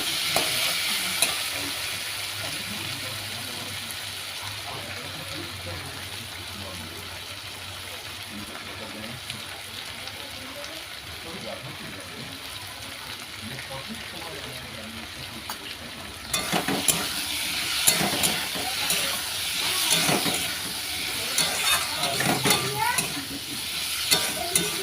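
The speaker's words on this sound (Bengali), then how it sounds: "এটাকে ভালো করে কষিয়ে নিয়েছি" A dish is stir-fried in a pan, with a continuous loud sizzle and frying hiss throughout, joined by rhythmic scraping and stirring strokes that grow busier in the second half, close up with no speech.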